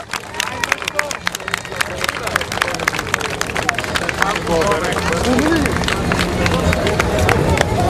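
Crowd at the ceremonial start of the Trayanovi Vrata rally in Panagyurishte, 2011, applauding and clapping for a departing rally crew, with dense sustained clapping and crowd babble building steadily, cheering voices mixed in.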